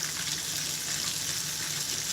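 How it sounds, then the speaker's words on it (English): Steady broadband sizzle of pollock frying in a hot pan, a continuous hiss with no speech over it. "You can smell the food frying."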